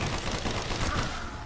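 Rapid gunfire at zombies in the Kino der Toten map of a video game, a loud dense burst of overlapping shots lasting about a second and a half.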